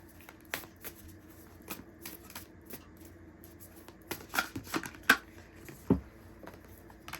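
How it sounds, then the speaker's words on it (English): Oracle cards from a Moonology deck being shuffled, a quiet run of soft papery riffles and taps with a few sharper flicks near the end, close and alone with no talking. "I'm going to get you an oracle card from the Moonology deck"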